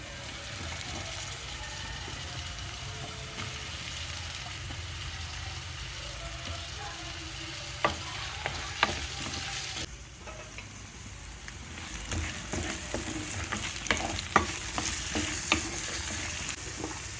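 Onions and spices frying in a pan, a constant close sizzle with scattered scraping and tapping of a spoon as they are stirred, the stirring growing busier toward the end.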